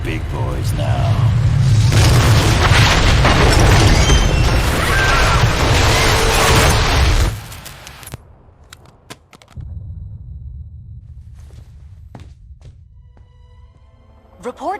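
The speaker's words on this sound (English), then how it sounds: "indicate a massive explosion in a residential neighborhood" A massive explosion in the video game Marvel: Ultimate Alliance 2 roars loudly as a sustained blast for about seven seconds, then fades into scattered debris clatter and quieter rumbling.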